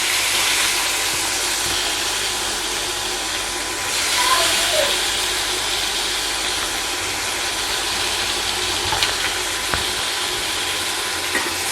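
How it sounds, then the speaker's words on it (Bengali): Chopped onions go into hot oil in a pan and sizzle with a broad, steady hiss, followed by some faint clinks and scrapes as they are stirred. "এখন আমি তেলের মধ্যে পেঁয়াজ কুচি দিয়ে দিচ্ছি।"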